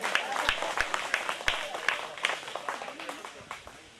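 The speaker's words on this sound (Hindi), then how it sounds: "तालियां बजा लीजिए।" A group claps together during an island visit in the Andamans, a lively mix of hand claps with children's voices and chatter running through it.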